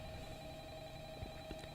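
Phone ringing inside the horror game Five Nights at Pinkies, a steady electronic ring tone heard faintly and continuously over a low hum, with no talking.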